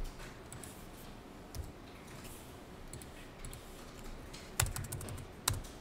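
Someone types on a computer keyboard with faint, sparse key clicks, then strikes two sharper, louder keys near the end in a quiet room.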